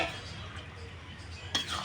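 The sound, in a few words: stirring chana dal in a pot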